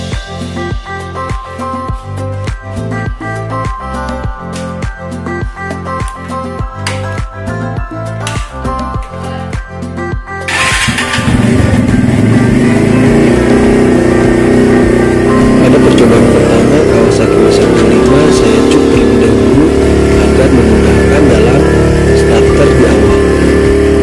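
A Kawasaki W175 motorcycle on its first cold start of the morning: rhythmic cranking chugs for about ten seconds, then the engine catches and settles into a loud, continuous idle.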